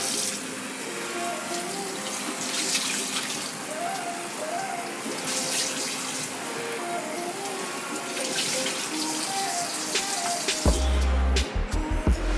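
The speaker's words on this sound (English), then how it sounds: "you want to make sure you get all the water out of them too by squeezing it" Water wrung by hand from wet 2000-grit sanding pads, a steady splashing and trickling stream running for several seconds, ending in a few louder drips and thumps.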